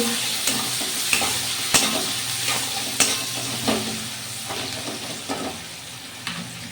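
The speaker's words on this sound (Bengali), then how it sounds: "পেঁয়াজ কুচিটা দিয়ে আমি ভালোভাবে পেঁয়াজটা ভেজে নিচ্ছি।" Chopped onions sizzling in a pan for a pointed gourd (potol) dish, a continuous frying hiss broken by regular clinks and scrapes of a spatula against the pan, near and uninterrupted by voices.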